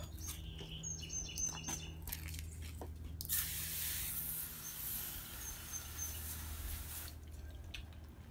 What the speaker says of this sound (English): And now we will rinse it off.